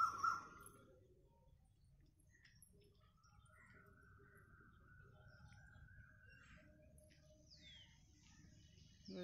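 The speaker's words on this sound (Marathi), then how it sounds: "आणि कोकिळेचा आवाज ऐका म्हणून मी शांत बसले" Asian koel calling in the early morning, a few faint distant whistled notes rising over quiet ambient hush, with a brief clearer call near the start and more toward the end.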